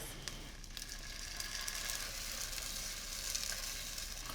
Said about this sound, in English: I'm adding a 28-ounce can of crushed tomatoes